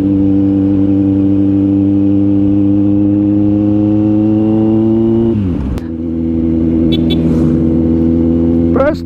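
Motorcycle engine running steadily with a strong, close, sustained hum that dips as it shifts or eases off near the middle, then picks back up, loud throughout.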